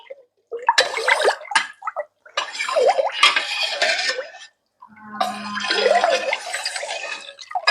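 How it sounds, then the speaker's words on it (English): Culture being stirred into warm milk at about 30 degrees Celsius for homemade cream cheese, heard as bursts of close liquid swishing and sloshing with short pauses between strokes. "And add it to this milk that is about 30 degrees Celsius and give it a stir through as well."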